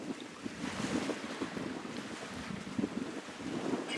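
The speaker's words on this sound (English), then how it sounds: "And we've got the sails up and the engines off." Sailboat under sail at sea at night with engines off, heard as a soft wash of water and waves against the hull mixed with rushing wind noise, fairly faint and continuous with no voices.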